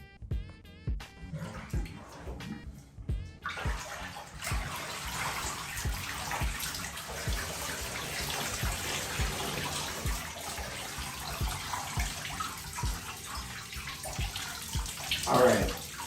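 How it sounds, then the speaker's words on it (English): Water draining from a bathtub and running to rinse soap out of APC Petit New Standard selvedge denim jeans, beginning with a few splashes and sloshes, then a steady close rushing flow with a louder burst near the end. "we're gonna drain this water and then we're gonna rinse these off to make sure we got all of the soap out of there"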